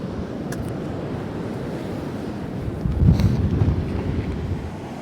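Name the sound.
strong wind outdoors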